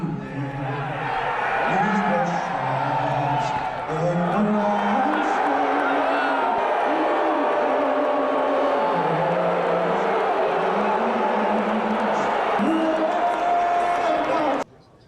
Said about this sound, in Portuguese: E é bem possível ouvir essas diversas vaias aqui